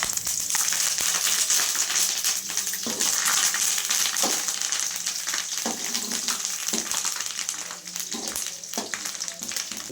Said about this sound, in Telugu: బాగా కరివేపాకు వేసుకోవాలి.